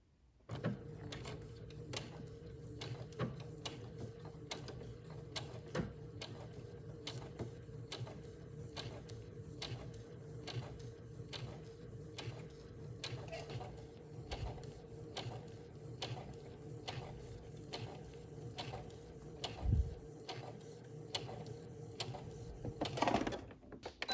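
A home sewing machine stitches a seam on a Vogue 1933 shirt dress, sewing just inside a basting line; a steady, quiet mechanical whir with a rapid needle tick runs continuously for over twenty seconds, with a few small handling knocks near the end.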